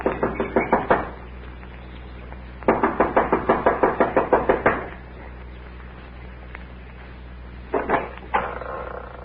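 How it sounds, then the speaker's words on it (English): Impatient knocking on the front door of a lodge, staged as a radio drama effect: a rapid burst of hard raps, a longer run of about a dozen knocks after a pause, then a couple of short final knocks, close and loud. "She knocks impatiently,"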